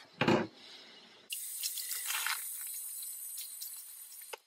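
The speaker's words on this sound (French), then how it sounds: "je la rince à l'eau froide" Cold tap water runs steadily over period underwear being rinsed in a sink, a loud sustained splashing flow that starts abruptly after a brief knock and handling sound, then cuts off near the end.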